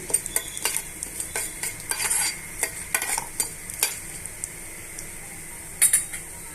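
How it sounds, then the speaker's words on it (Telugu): Tempering seeds crackle and spit softly in hot oil while a spoon scrapes and taps the pan in quick, irregular strokes, with no voices. "ఈ పోపు గింజలు బాగా వేగిపోయాయండి"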